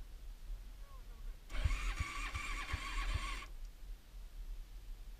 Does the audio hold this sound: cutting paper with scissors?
no